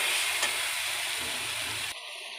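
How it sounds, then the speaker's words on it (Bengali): Meat sautéed with meat masala, a little sugar, ground coriander and cumin hisses steadily in a pan, a broad close sizzle that cuts off abruptly near the end. "একটু কষিয়ে নেব।"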